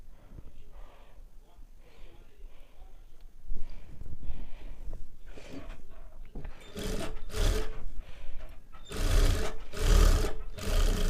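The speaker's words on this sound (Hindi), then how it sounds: "पहले हमें इस तरह से एक चाप की स्टिचिंग कर लेनी है ताकि हमारे कपड़े अच्छे से बैठ जाए।" Sewing machine stitching a curved seam on a collared katori blouse, running in short bursts that grow louder and busier toward the end, close up, with someone talking over it.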